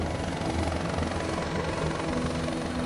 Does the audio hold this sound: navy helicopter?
yes